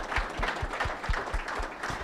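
Applause at an online business seminar, a small scattering of claps with low thumping beats, moderately close and brief.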